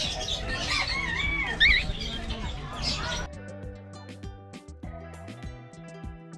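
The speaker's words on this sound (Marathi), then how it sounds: "कोकाटेल्स ऑस्ट्रेलियन पॅरट आहे." Cockatiels, small Australian parrots, give busy chirps and whistling calls amid noisy background chatter for about three seconds, then a steady stepped tonal sequence takes over.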